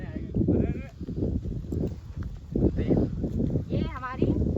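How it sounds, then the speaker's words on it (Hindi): A goat named Chimki bleats a few times at a village farm, the calls short and wavering, mixed in with steady close talking. "ये हमारी बकरी चिमकी।"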